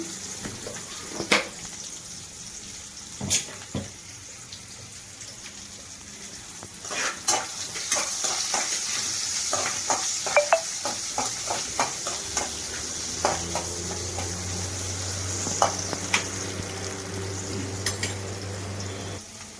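Onion frying with salt in a pan for a broad bean (chikkudukaya) curry: a steady sizzle with scattered clicks of a spoon stirring and scraping, moderately close, growing denser midway, with no voices.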